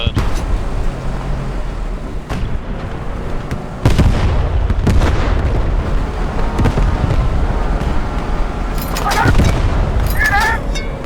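Artillery fires high-explosive rounds in the Squad 44 video game, with heavy booms and sharp cracks over a constant rumbling background, and voices talking at times.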